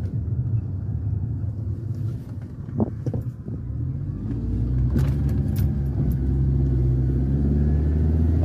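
2005-2007 Mercedes driving after a front and rear brake pad and rotor job, a steady low road rumble of engine and tires with a few light knocks and clicks, growing slightly louder toward the end.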